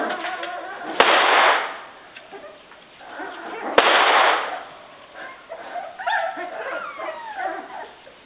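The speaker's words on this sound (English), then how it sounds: "now I'm going to do gunfire" Recorded gunfire played near Alapaha puppies, with two sharp loud cracks that each roll into a brief rumbling burst, and steady background noise in between.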